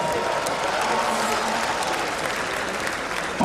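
A crowd applauds at a university degree award ceremony for postgraduate diplomas, master's, doctorate and honorary degrees in Nigeria, a sustained even wash of clapping from a large audience, slightly distant and continuous.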